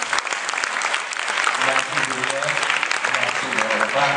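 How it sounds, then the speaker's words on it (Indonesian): An auditorium audience claps steadily for a lecturer being introduced, a dense wash of applause lasting several seconds, with a voice speaking faintly beneath it. "Kita beri aplaus untuk Pak."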